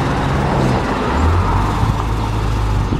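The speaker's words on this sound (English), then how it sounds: "Quiet. Gas engine quiet." A Ford F650 truck's gas engine idles with a low, steady rumble close by, fairly loud and even throughout.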